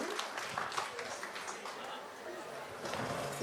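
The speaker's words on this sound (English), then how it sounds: "Let's give her a round of applause." A crowd at an Indian Arrival Day celebration in Debe applauds a woman Member of Parliament, a dense, steady wash of clapping that lasts throughout, with a voice speaking over it.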